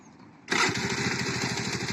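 A scooter starts with the button: a sudden electric-start catch after a quiet moment, then a steady, buzzing small-engine idle with a fast pulsing rhythm, close and fairly loud.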